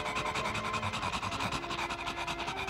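A cartoon dog pants in quick, regular, rhythmic breaths, close and fairly loud, with no talk over it.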